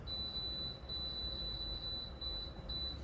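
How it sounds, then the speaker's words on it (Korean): A kitchen timer alarm sounds after a ten-minute countdown. It gives a steady high-pitched tone, broken by brief gaps, that keeps going in a quiet kitchen. "10분이 다 됐어요 라고 이렇게 소리를 하네요"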